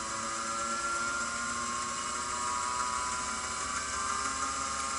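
A wood lathe turning a hammer handle runs at a steady, fairly quiet whine with a constant mechanical hum and no breaks.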